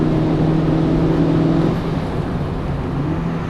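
A 2015 Mazda MX-5 sports car at speed on a race track, its engine droning loudly and steadily close up at about 85 mph past the start-finish straight, the pitch easing slightly toward the end.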